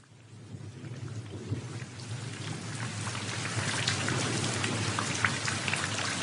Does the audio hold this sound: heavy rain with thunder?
yes